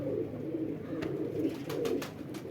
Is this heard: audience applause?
no